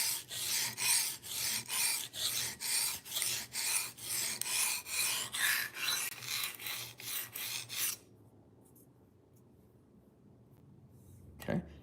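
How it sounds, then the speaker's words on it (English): Knife blade sharpened on a diamond stone, about sixteen rhythmic rasping strokes back and forth, close and even, then stopping into quiet with a brief knock at the end. "I haven't done a lot of stone sharpening in a long time"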